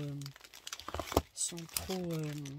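Plastic wrapping on a card-making kit package crinkles and tears in quick, close bursts while someone speaks over and between the rustling.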